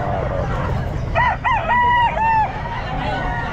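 A rooster crows loudly and nearby at the Bocaue pet market, one full drawn-out crow over a steady murmur of market crowd noise.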